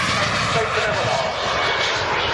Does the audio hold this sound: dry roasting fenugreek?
no